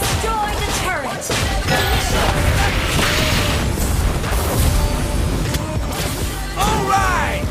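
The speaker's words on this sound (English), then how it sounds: "Your team destroyed the turret." Mobile Legends gameplay with a turret being destroyed, a dense roar of booming crashes, impacts and game effects, loud and continuous with a voice talking over it.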